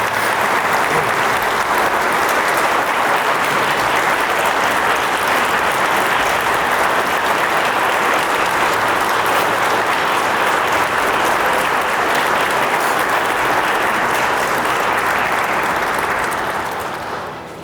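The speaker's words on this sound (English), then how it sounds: "Let's give them a round of applause, please" A large audience applauds continuously for a long stretch, a thick, even wash of clapping that fades slightly at the very end.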